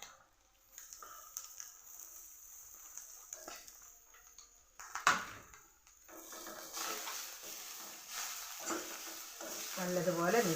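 Horse gram thoran stirred in a pan with fried mustard seeds, curry leaves and ground coconut paste, giving soft scraping and a light sizzle that grows busier and louder toward the end.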